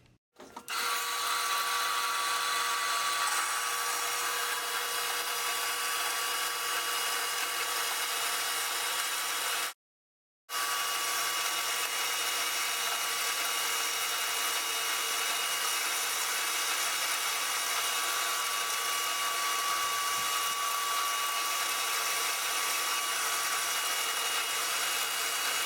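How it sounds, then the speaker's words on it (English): A bandsaw cuts 7/8 by 1 inch metal stock for a gate project, producing a continuous loud grinding whine with a steady tone, briefly stopping for about a second midway before resuming. "I got the bandsaw set up to cut some 7/8 thick pieces, 7/8 by 1 inch thick pieces of stock"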